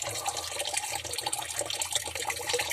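Water drains out of household plumbing pipes after a fitting is unscrewed with the supply shut off, making a steady, dense splashing and trickling that runs unbroken and fairly close throughout.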